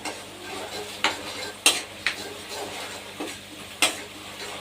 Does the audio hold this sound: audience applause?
no